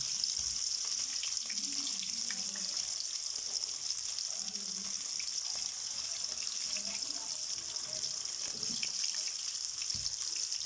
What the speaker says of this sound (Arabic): ادي السمك بتاعنا بنعمله كده في دقيق جامد، وبعد كده بننزل بيه على زيت سخن طبعا